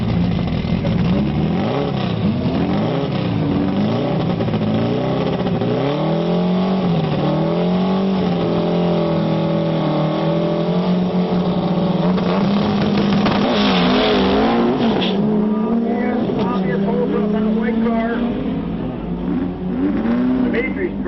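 Volkswagen Beetle drag race cars accelerating hard down the strip, a loud sustained engine roar with rising pitch sweeps, heard over continuous commentary from an announcer.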